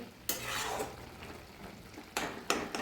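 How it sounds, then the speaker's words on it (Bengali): A spoon scrapes and stirs food around a pan in a few distinct strokes, close up, over a soft background sizzle. "একবার নাড়িয়ে নেবো ভালো করে"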